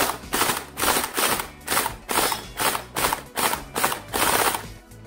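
Repeated rapid bursts from an RX AKM47 V3 toy blaster, about eight evenly spaced mechanical clacks with no magazine primed, loud and close with no talk.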